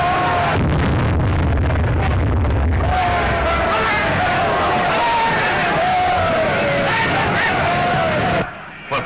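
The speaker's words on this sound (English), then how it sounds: "The crowd outside are in a terrible state of excitement." An excited, hostile crowd outside a palace balcony in a 1931 film, a loud continuous babble of shouting voices with bursts of noise, breaking off abruptly near the end.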